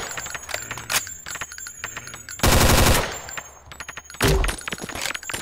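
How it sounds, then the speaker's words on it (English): M16A2 rifle with underslung grenade launcher in a DOOM mod video game, firing in loud staccato single shots and bursts, with two longer sustained blasts of rapid fire dominating the middle and end. "Alright, we got M16 with a grenade launcher."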